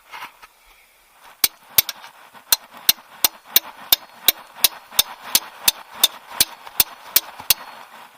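Repeated hammer blows on a tight part of a VW Vento during maintenance, a fast, steady run of about twenty sharp metallic strikes after a couple of softer taps, loud and close with no talking.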